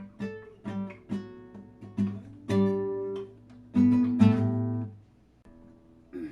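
A riff is plucked on a short-neck classical guitar, a run of single ringing nylon-string notes with some let ring into sustained tones, moderately loud and close, with no talking.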